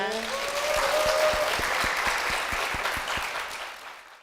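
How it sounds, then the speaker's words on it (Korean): A church congregation claps steadily, dense applause that holds then thins toward the end, with a few voices murmuring at the start. "박수로 모시겠습니다"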